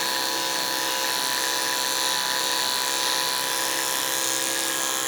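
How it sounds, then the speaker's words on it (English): A detachable-blade hair clipper buzzes steadily and close during a bald fade, a constant bright, even hum with no pauses. "you have as a detachable blade or a detachable clipper"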